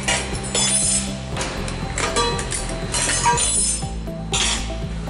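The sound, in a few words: metal conveyor end cap tab bent with crescent wrench until snapping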